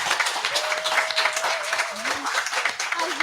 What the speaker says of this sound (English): Give a round of applause for our moderator.